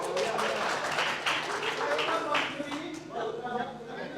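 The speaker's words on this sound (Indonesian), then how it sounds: "Sekali lagi tepuk tangan buat Tuhan kita" Applause at a pastors' and entrepreneurs' seminar, a crowd clapping in a dense wash that swells and then thins, mixed with voices.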